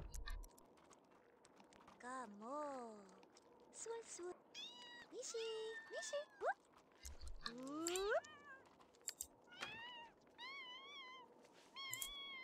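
Repeated meows from a cat character in The Sims 2, several short rising and falling calls spread across the stretch, heard under a woman chatting and light keyboard tapping.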